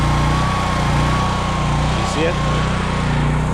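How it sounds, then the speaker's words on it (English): A Honda EB6500X portable generator engine runs steady and loud at close range while warming up to power a welder in the field. A person speaks briefly over the constant drone. "You did that at the beginning so the engine can warm."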